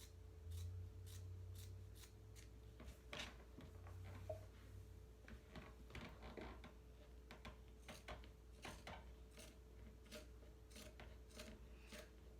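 Scissors, the crafter's everyday collaging pair, snip repeatedly through jersey fabric strips for a Mother's Day infinity scarf: a steady run of quiet, crisp cuts and soft rustling, close and faint over a low background hum.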